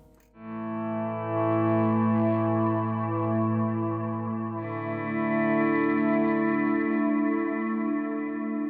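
Sustained electric guitar chords ring out, washed in reverb, with a repeating delay that bounces the notes back and forth in a wide, shimmering swell.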